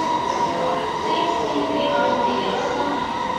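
Yamanote Line train at a Tokyo station platform, a steady rumbling rail hum with faint tonal squeals and platform ambience, heard for a few seconds.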